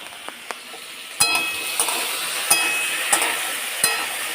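Potatoes lightly frying in a home kitchen pan give a steady sizzle, broken by several sharp clinks and scrapes of a stirring utensil against the pan.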